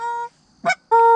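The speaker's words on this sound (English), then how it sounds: "Two geese." Geese honk as they fly in during an early-season goose hunt, two loud, close, harmonic honks separated by a short rougher call, with no voices in between.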